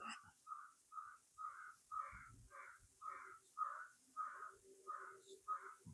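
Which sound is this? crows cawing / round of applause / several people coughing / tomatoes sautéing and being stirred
crows cawing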